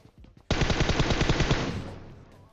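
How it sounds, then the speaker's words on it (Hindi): Rapid automatic gunfire from a gun in PUBG Mobile, a loud continuous burst of closely spaced shots lasting a couple of seconds, then fading into a short echoing tail. "और यहां पे मैं वही अपनी सस्ती पुरानी गने चला रहा हूं"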